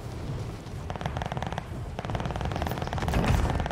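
Rapid automatic gunfire in a Call of Duty Modern Warfare Warzone Plunder match, sustained bursts crackling continuously through the clip and growing slightly louder toward the end, with no talk over it.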